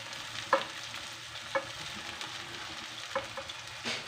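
Poha tossed with onion, green chilli and curry leaves in a pan, with a few distinct scraping stirs over a steady soft sizzle, close and fairly quiet.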